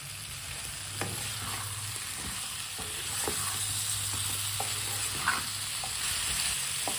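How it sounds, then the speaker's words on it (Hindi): Cut potatoes fry in a hot pan while a spoon stirs them, giving a steady soft sizzle with light scraping clicks and taps scattered throughout, fairly close and without any talk. "अब इसे 2-3 मिनट के लिए भून लेते हैं, पका लेते हैं ऐसे ही चम्मच चलाते हुए"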